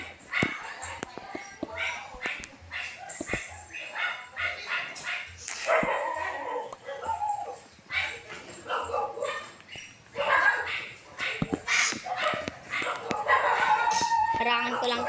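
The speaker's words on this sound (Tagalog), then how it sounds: "Ba't ang ingay ng mga asong to?" Dogs in the Minecraft video game barking and whimpering in repeated short yips and bow-wows, scattered through a busy in-game soundscape with someone talking over much of it.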